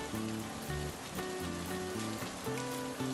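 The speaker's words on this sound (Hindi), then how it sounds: "बारिश अभी भी हल्की फुल्की हो रही है।" Light rain falls steadily in a constant soft hiss, with a faint musical tone running underneath and no voices.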